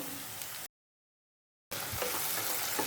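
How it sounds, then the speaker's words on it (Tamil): Chopped tomatoes sautéing with onion and garlic in a pan for an eggplant, mango and anchovy fish curry, a soft steady sizzle with stirring scrapes, broken by a brief silent gap. "நல்லா கிளறி விடுங்க. தக்காளி மசிற அளவுக்கு நல்லா வதக்கி விடணும்."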